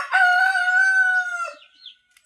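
A bantam rooster crows once, a long, loud, drawn-out call lasting over a second, followed by a brief faint cluck.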